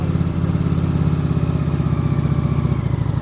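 Motorcycle engine held with loaded throttle during slow-speed riding practice, a steady, loud, close throbbing rumble that continues unbroken throughout.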